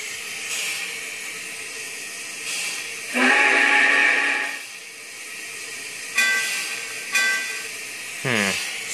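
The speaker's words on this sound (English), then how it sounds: "But the horn sounds realistic." Steam locomotive horn in the Trainz train simulator game sounds in several loud whistle blasts of differing length, with hissing steam between them and a falling tone at the close.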